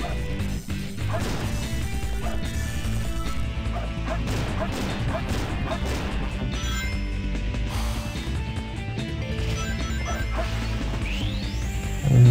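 Glass smashing amid dense game music and effects in Sonic Adventure 2, a sharp crash cutting through a busy, continuous mix with voices talking over it.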